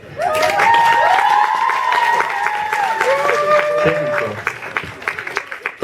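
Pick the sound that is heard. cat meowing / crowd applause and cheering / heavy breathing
crowd applause and cheering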